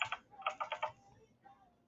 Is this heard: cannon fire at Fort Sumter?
no